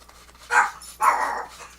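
A dog barks twice from nearby, two short loud woofs about half a second apart, heard indoors with no one talking.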